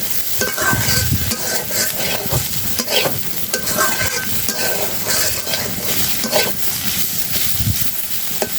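Bitter gourd fries in a pan while a spatula stirs it repeatedly, loud scraping strokes over a constant close sizzle, no voices.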